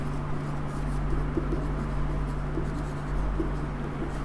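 Hand-writing of a differential equation, apparently by pen, scratches on steadily under a constant low electrical hum with no voice.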